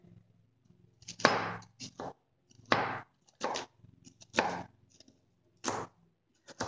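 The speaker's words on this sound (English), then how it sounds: "So I'm just going to give this a little chop" A knife chops vegetables on a cutting board in a handful of separate, sharp strokes, close and distinct, with quiet pauses between them.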